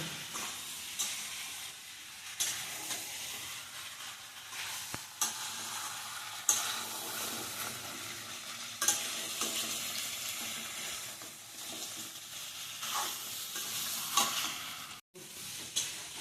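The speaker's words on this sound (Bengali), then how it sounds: "এখন মাংসটা ভালোভাবে কষানো হবে" Meat sautéed in oil in a pot for a Bengali potato and meat curry: a continuous close sizzle and hiss with occasional stirring scrapes and clicks, without talk.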